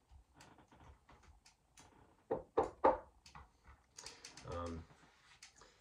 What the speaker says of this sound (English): I think there's some wood over here to knock on